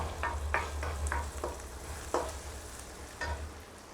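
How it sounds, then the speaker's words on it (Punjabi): Onions fry in a pan with a soft steady sizzle, punctuated by a series of light scraping stirs and utensil taps, close and fairly quiet over a low hum, with no talk. "ਵੇਟ ਕਰਾਂਗੇ ਆਪਾਂ ਪਹਿਲਾਂ ਜਿੰਨੇ ਜਰ ਆਪਣੇ ਪਿਆਜ਼ ਚੰਗੀ ਤਰ੍ਹਾਂ ਭੁੱਜ ਜਾਣ"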